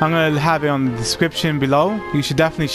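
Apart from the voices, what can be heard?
No distinct noise like a dog, phone or traffic.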